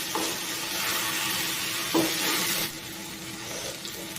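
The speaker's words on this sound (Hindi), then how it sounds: "अब इसमें हम डालेंगे फ्राई की हुई भिंडियाँ और इन्हें हल्के प्याज के साथ हल्के हाथों से मिक्स कर लेंगे" Fried okra gently stirred into an onion masala in a hot pan gives a steady sizzle with soft scraping strokes, easing to a quieter fry partway through; no one speaks.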